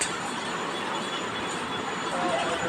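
A small toy train at an amusement park rumbles along with a steady, noisy wash of wheel and track sound and a faint squeal near the end.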